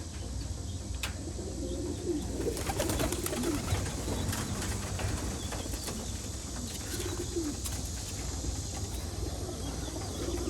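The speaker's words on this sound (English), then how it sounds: "A lot of rollers, a lot of Birmingham rollers, a lot of racing pigeons, and that's all I have." Racing pigeons and Birmingham roller pigeons in a loft give low, soft cooing against steady background noise, with occasional faint wing flaps and chirps and no talking.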